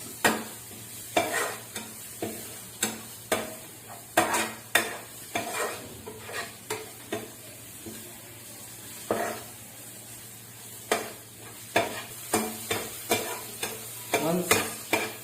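Chicken masala with coriander, turmeric, garam masala and salt is stirred in a hot pan: a soft sizzle runs underneath while a spoon scrapes in repeated, uneven strokes, near and fairly loud.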